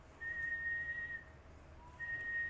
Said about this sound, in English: so now if you whistle, who's that one that could whistle really well?